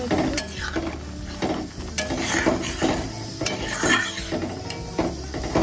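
Lentil dal with drumsticks stirred in a cooking pot, a spoon scraping and knocking against the metal in repeated close clinks over a soft simmering sizzle.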